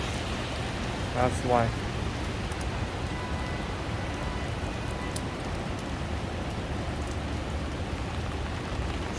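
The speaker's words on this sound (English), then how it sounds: "Raining harder." Heavy rain falls steadily over a New York City street during a storm, a constant hissing wash with a brief voice and faint passing traffic in the background.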